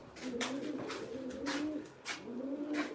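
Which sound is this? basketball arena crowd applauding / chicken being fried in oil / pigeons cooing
pigeons cooing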